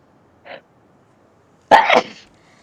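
A single sharp sneeze bursts out loudly after a brief faint sound, then quickly fades to quiet.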